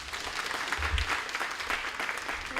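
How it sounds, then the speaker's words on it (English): Audience at a national school debate semi-final or grand final applauding a secondary school speaker, a moderate, even spread of clapping from a mid-distance crowd lasting the whole stretch. "Round of applause for the second speaker of Kokopo Secondary, Hilary Valuka."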